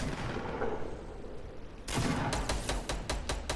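Pump shotgun fire in a battle-royale style shooter: a dense roaring blast of gunfire under a noisy battle wash, then a string of sharp, evenly spaced distant reports near the end, no talking.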